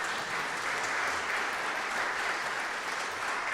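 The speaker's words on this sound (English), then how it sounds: "And yes, you can applaud for that" An audience applauds steadily for several seconds, a dense wash of clapping that stays even in loudness throughout, with no voices rising above it, during a gathering honoring diverse contributions to humanity.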